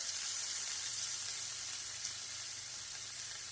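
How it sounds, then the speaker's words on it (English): Filet steak sides searing against a hot cast iron skillet give a steady, bright sizzle with a low hum underneath, close and continuous with no talking. "I'm going to sear the sides here. I'm just going to put them up against the pan there"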